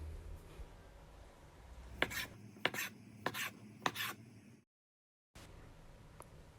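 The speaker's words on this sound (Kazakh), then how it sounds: "Қамырларымызды жұқа етіп жаямыз" A rolling pin rolls out small oval pieces of chebureki dough thin, making a run of four or five soft, rhythmic rubbing strokes close by, followed by a brief silence and a faint stroke afterward.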